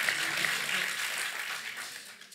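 Conference audience applauding a speaker's introduction, dense continuous clapping that gradually tapers off over a couple of seconds.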